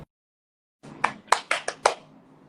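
A few quick, sharp hand claps land in a short, uneven burst after a moment of silence, close and fairly loud.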